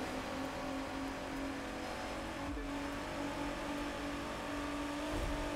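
A Lamborghini engine in The Crew 2 drones steadily under load, a continuous close revving tone with a brief dip midway, heard alone.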